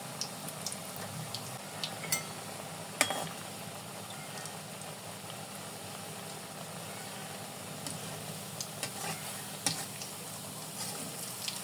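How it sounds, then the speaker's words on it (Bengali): Laddu dough frying in hot oil for Bengali laddu, giving a steady low bubbling sizzle with scattered crackles and pops throughout, close and fairly quiet, with no talk. "এটা তো মশমশা করে ভেজে নেব"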